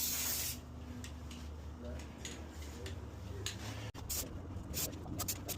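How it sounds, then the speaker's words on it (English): A rattle-can spray paint can mists paint onto a rifle, a steady hiss at the start, followed by short sprays amid handling clatter and speech. "I spray from far at an angle and I just mist it."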